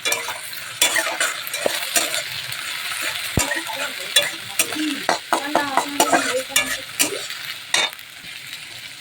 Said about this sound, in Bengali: এর মধ্যে আমি এক চামচ আদা বাটা দিয়ে দিলাম এক চামচ রসুন বাটা